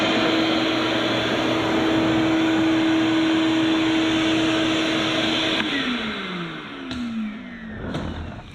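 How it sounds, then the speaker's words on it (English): A vacuum cleaner drones loud and steady at close range while a Ford F-Series truck is being cleaned out during an audio system install, then switches off and whines down as its motor slows, with no talking. "Grab vacuum, clean it up."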